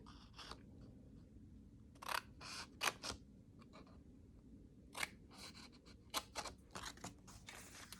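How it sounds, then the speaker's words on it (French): Scissors snip along the fold lines of a paper box, giving a series of short, crisp cuts in quick clusters, fairly close and quiet. "nous allons simplement prendre notre paire de ciseaux et suivre nos petites lignes de pli sur les côtés"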